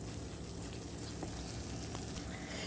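Tuna and cream cheese mixture sizzles in a pan, a steady close frying hiss with faint crackles and no talking.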